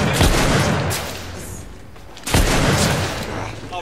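Two loud gunshot blasts in the video game The Order: 1886 ring out about two seconds apart, each followed by a ragged echoing tail over dense game background noise.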